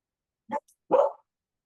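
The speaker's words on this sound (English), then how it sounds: "I'll have to go corral the dogs." Dogs bark indoors, a short bark and then a louder, fuller one about half a second later, close by against silence.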